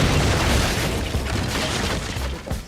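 A fort explodes in a fort-campaign video game, giving a loud, sustained booming blast with dense rumbling noise that holds for the full moment and fades only slightly at the end.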